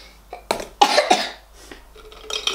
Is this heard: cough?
yes